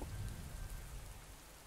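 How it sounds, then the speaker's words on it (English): Rain falls everywhere in the video game Golden Treasure: The Great Green, pattering on leaves and grass. The steady, soft wash runs continuously with no voices. "Soon, rain is falling everywhere, tumbling and vaulting off of leaves, and sliding merrily down the grass."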